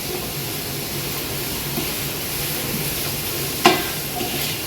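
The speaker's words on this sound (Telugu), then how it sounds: "ఎల్లుల్లిపాయ పేస్ట్ ఇది వేగాలి." Garlic paste and cashews frying in a pan for mushroom pulao, giving a steady close sizzle with a sharp clink of a spoon near the end and no talking.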